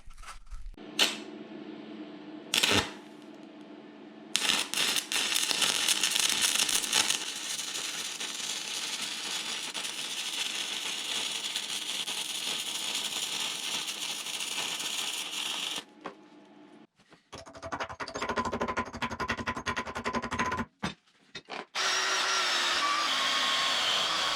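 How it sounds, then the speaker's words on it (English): Welding on the arm of a used Bobcat skid-steer loader gives off harsh, sizzling crackle in long bursts that stop and restart several times, close up with brief quiet gaps between runs. "I'm gonna start welding this arm now"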